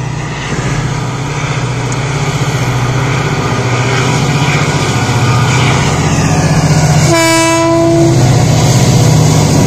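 A train rumbles past loudly and close, with a steady rolling clatter, and a brief horn blast sounds near the end.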